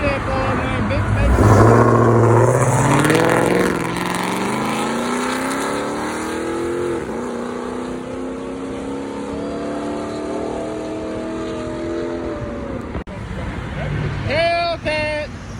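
A Dodge Hellcat muscle car revs hard at a car meet, its loud exhaust rising and falling in sweeping pulls close by. Excited spectators shout and talk over it.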